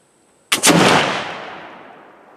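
A Harpers Ferry 1807 flintlock pistol fires a single loud blast after a short quiet pause, its booming report trailing off into a long fading echo, with no voices.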